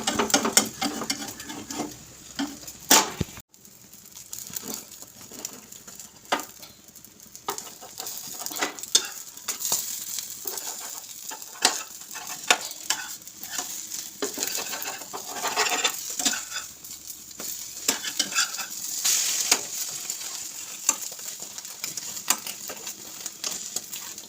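Eggs frying in a pan in a home kitchen, a steady busy crackle and sizzle with scattered clicks and taps of utensils against the pan, close and continuous with no talking.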